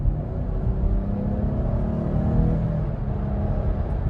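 A 2021 Chevrolet Blazer 3LT AWD with the 3.6 V6 pulls away at about half throttle, a steady close engine drone and rumble rising slightly in pitch, heard from inside without talk.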